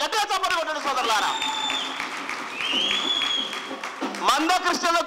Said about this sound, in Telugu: గట్టిగా చప్పట్లు కొట్టండి సోదరులారా.